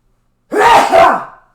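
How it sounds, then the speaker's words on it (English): A single close, loud sneeze from a man refurbishing a Superstar pinball machine, with a sharp onset and a two-part burst that fades out quickly after a moment of silence. "I have to sneeze right now."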